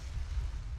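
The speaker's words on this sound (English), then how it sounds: "there's your torpedo hit" A torpedo hit on a ship in the naval game Ultimate Admiral: Dreadnoughts comes through as a short, muffled low rumble of a distant explosion, fairly quiet and with no talk.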